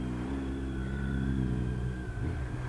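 A motorcycle pulls away in first gear on a ride, its engine a steady, close mid-pitched drone that rises slightly as it accelerates, with no talking.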